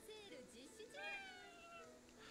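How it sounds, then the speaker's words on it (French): Cat yokai meowing in the video game Ghostwire: Tokyo, a few rising and falling meows, close and fairly clear, over a soft game background with a voice speaking. "Un miaou dans ma boutique ?"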